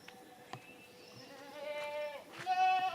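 Goats bleat several times, wavering calls that grow louder toward the end, with faint background clatter.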